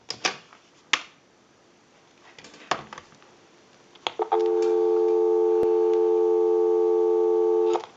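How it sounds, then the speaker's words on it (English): Dial tone from a Western Electric 2500 desk telephone: a few handset clicks and knocks first, then a steady, loud continuous hum that holds for several seconds before cutting off. "Go ahead and give you some dial tone."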